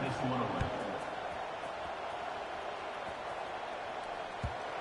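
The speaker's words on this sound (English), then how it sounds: "this crowd is buzzing after that last score" A college football stadium crowd keeps up a steady, broad buzz of voices at a distance, with a commentator talking over it and a couple of faint thumps.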